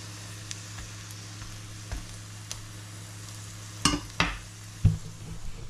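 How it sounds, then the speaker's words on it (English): Sausage frying in its own grease in a pan gives a soft, steady sizzle, broken by a few sharp clicks and scraping knocks of a utensil against the pan near the end. "there's a wee bit of grease starting to come off of here. That'll just help the sausage kind of fry a wee bit"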